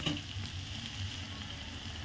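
Egg bhurji frying in a pan with turmeric, giving a steady, close, even sizzle that holds at the same level throughout with no talking.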